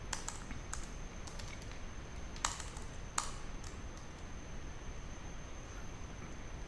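Soft, quiet clicking of a computer keyboard while Python code is entered, with irregular keystrokes and a few sharper taps over a steady hiss, and no voices.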